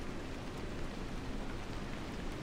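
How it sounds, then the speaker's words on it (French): Heavy rain pours down steadily in the survival horror driving game Pacific Drive, a dense, even hiss of downpour with no voices over it. "Là il pleut, hein. Il pleut à verse, hein."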